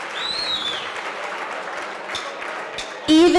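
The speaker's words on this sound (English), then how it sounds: "round of applause for Brad." Audience applause at a speech event honoring a behavioral neurologist: a moderately loud, continuous patter of clapping for about three seconds, then a whistle and a voice cut in abruptly at the end.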